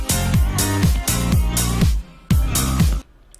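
A chopped, sampled drum break in a Future Funk track, repeating in loud punchy bursts with heavy kicks and bright hits, cut off by short gaps and ending in a brief near-silence.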